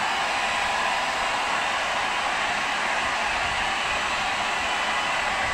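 A hair dryer blows steadily to dry a Lhasa Apso dog after its bath, a constant loud whooshing roar that runs unbroken throughout with no talking.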